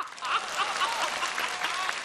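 Audience applause at a televised Chinese comedy sketch performance, a steady wash of clapping from a large crowd that holds continuously and loudly throughout without breaks.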